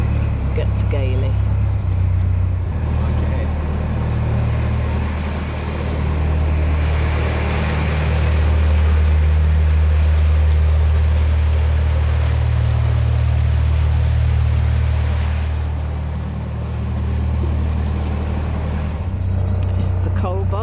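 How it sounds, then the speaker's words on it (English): A coal barge fuel boat's engine chugs past on a narrow canal, a loud, low diesel throb that builds and then fades as the boat passes close by. "It's the coal barge, well, fuel boat, delivering."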